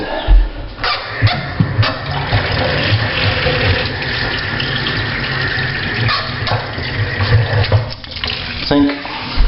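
A tap runs steadily into a sink inside a house, a continuous splashing rush of water lasting the whole stretch, with a dog barking briefly in the background.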